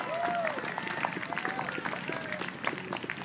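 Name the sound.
applause for Milton Consiglio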